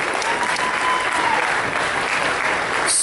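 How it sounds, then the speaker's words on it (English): A convention crowd applauds a comic book expert at a fan charity auction, steady dense clapping filling the whole moment at close range with no speech over it. "one more huge round of applause for the comic book expert of our fan, illustrious Q."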